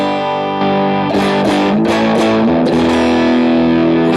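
Electric guitar through a medium-gain amp model on a BOSS GT-1000 with no reverb, loud overdriven chords and picked notes played alone in a steady riff, sustaining with a gritty, saturated tone.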